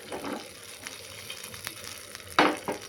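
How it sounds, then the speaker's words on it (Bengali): Vegetables such as yardlong beans, pointed gourd and eggplant frying in a pan as lentil dumplings (bori) are added, giving a soft steady sizzle with a few sharper stirring scrapes near the end, close and without talk. "এর সাথে একটু বড়ি দেবো বড়িকে গড়িয়ে দেবো ভেজে"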